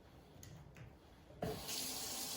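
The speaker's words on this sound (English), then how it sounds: "wash our hands" A kitchen tap is turned on and hands are washed under it: soft handling noises first, then a steady hiss of running water that starts abruptly and carries on, close and fairly quiet, with no speech.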